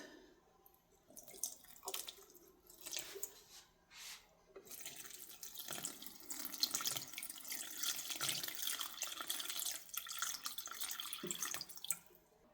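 Water poured from a tap or can onto a thirsty houseplant, splashing and trickling unevenly in short bursts before a steadier stream, faint and close with no voices.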